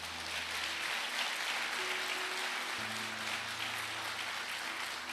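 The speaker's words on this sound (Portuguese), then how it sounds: "Quem crê assim, diga uma salva de palmas para o Senhor." A church congregation applauds throughout a Portuguese-language worship service, a steady, dense wash of clapping hands with a low sustained instrumental tone beneath it.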